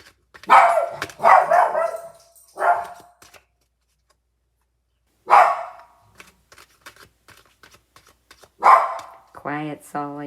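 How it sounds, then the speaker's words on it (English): A dog barks in loud, separate bursts: two quick barks, a third, then a long pause before two more. It ends with a short, higher whining yelp, close by with no talking over it. "Sorry about my dog making a noise."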